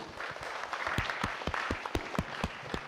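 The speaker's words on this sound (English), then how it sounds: "A big round of applause for Vice Chairman too." Applause from an audience at an MBA expert session, heard as scattered, fairly soft claps with distinct individual hand strikes in an uneven rhythm.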